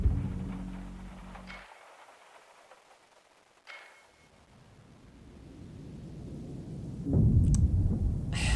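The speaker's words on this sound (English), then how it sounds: "the sound of the loudest thunderclap jerks you out of your slumber" In the video game Rue Valley, a thunderclap cracks sharply then rolls off into a low rumble, followed by a quieter stretch and rising rain and storm noise near the end.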